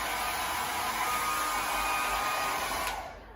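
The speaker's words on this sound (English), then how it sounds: "volunteer number 2, I want you to get the hairdryer, switch it on" A hair dryer running in a classroom, giving a steady, loud, even rush of blown air for about three seconds before it begins to fade, with no voices over it.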